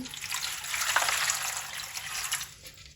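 Water pours into a large pot for washing small spinach leaves, a steady bright splashing and trickling stream, moderately close and fairly quiet, fading slightly at the end.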